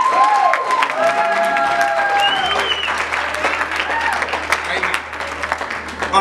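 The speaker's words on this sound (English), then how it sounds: "could we give them a round of applause?" A church congregation applauds amid cheering and a dense crowd roar. Singing and sustained voices run over the clapping, which stays loud and continuous throughout.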